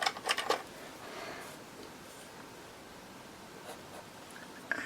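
Pencil scratching on paper while marking an altered book cover, a few quick close scribbling strokes at the start, then a quiet room with faint rustling.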